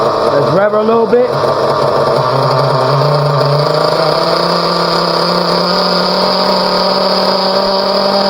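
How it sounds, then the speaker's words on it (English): A Team Associated nitro RC car engine revs in quick rising bursts, then settles into a loud, steady, high-pitched buzzing run, close and continuous. "Let's rev her a little bit."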